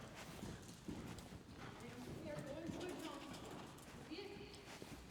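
Horse hoofbeats at a canter during a riding clinic lesson, a steady muffled clip-clop under an ongoing instructor's voice, with faint bird cooing in the background.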